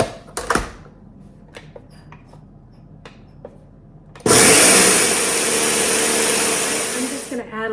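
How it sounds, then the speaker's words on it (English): A Ninja blender grinding about three cups of rice starts abruptly after a few quiet clicks and handling sounds, then runs loud and harsh with a gritty whirring roar for several seconds. "I just have a Ninja blender here"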